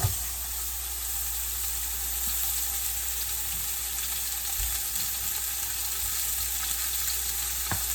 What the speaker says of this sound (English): You should hear it sizzle when it lands in there.